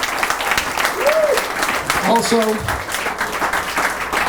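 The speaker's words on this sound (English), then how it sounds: "Can we give them a round of applause?" An audience applauds at a New York assemblyman's political talk, a sustained wash of clapping from the crowd with a voice speaking over it.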